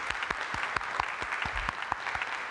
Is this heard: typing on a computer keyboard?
no